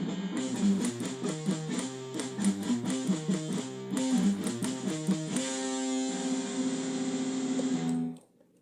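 An electric guitar plays a palm-muted riff as tight, chugging rhythmic stabs. It moves into a sustained ringing chord, then cuts off abruptly near the end. No talking.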